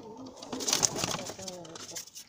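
A standard male voyager pigeon in a Romanian loft gives a soft, close coo with a few rising and falling notes over about two seconds, quiet bird rustling around it.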